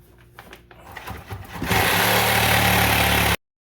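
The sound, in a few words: drill boring holes through wall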